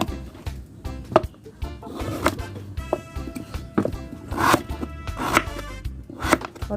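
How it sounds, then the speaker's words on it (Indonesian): A knife chopping yellow pumpkin on a cutting board, a series of close, irregular thuds and crisp cuts repeating every second or so, with faint kitchen background noise. "Kita potong."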